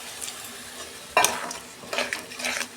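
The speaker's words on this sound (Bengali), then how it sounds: "আমি 2 মিনিট ভালো করে কষাবো মশলাটাকে" Spice masala for a prawn and cauliflower curry sautéing in a pan, a steady sizzle with scraping stir strokes and a sharp clatter of spoon against the pan midway, no voices.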